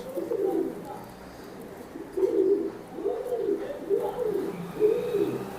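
Racing pigeon cooing in repeated low, rolling phrases, about five coos spread evenly across the stretch, fairly close with soft background noise and no speech.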